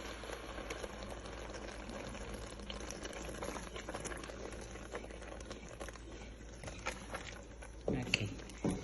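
Oil added to a pot of cooking assorted-pepper sauce, giving a soft steady bubbling and sizzle with faint clatter and a few sharper knocks near the end.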